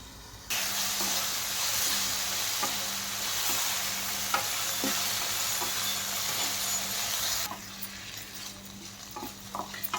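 Spicy tomato rice is stirred in a pan, a spoon scraping the base in a steady rhythm over a continuous close sizzle that drops away near the end.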